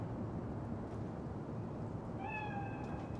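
Single drawn-out cat meow rising over a steady low ambient drone in the video game Cyberpunk 2077: Phantom Liberty, clear and fairly close after a quiet stretch.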